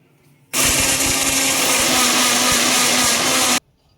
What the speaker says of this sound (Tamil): ஒரு சின்ன மூடி அரை மூடி தேங்காய் சில்லா எடுத்து மிக்சியில் அரைச்சிக்கிற போகிறோம்